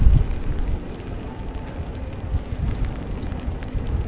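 Steady rain hissing around a rider out mountain biking on a summer e-MTB outing, a continuous wash of drizzle mixed with gusty low wind rumble against the microphone, fairly loud and unbroken with no talking.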